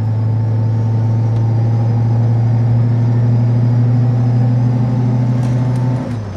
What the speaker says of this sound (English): quite a lot of the engine noise is actually a little radiator fan. It's a little plastic fan, and they do make a certain amount of noise.